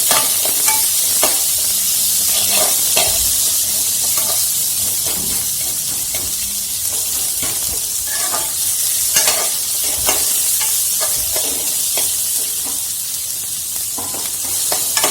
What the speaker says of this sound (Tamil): நல்லா போட்டு மிக்ஸ் பண்ணுங்கள்.